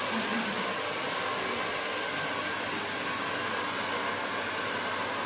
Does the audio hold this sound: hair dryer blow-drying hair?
yes